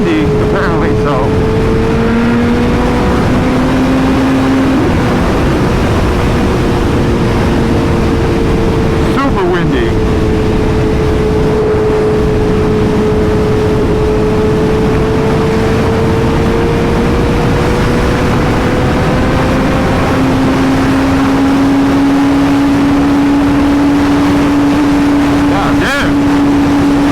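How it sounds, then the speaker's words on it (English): Strong wind buffets the microphone while a motorcycle rider travels at speed on a Dallas ride, a loud, unbroken roar over a steady engine drone with shifting pitch. "just because of the insane amount of wind that there is."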